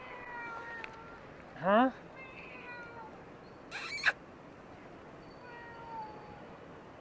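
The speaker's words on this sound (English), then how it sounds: "He's just meowing." A cat named Dimmy meows on a Taipei street near the Sun Yat-sen Museum, one sharp rising cry standing out clearly over steady outdoor traffic hum, followed by a fainter call later, with a brief spoken word nearby.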